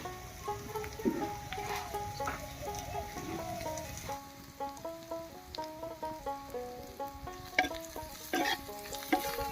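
Green chillies with salt and turmeric fry lightly in a pan, a soft sizzle with repeated stirring scrapes in a loose rhythm, fairly faint, over a background of tonal hum.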